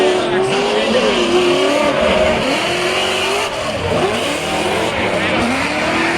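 American V8 race car at a racing superfinal, its engine roaring continuously with shifting revs and pitch sweeps as it passes, loud and close, with a commentator talking over it.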